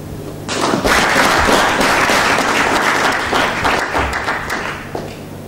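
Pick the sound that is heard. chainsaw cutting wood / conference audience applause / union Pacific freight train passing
conference audience applause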